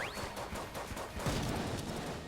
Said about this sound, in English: you're in the background popping off little spurts of gunfire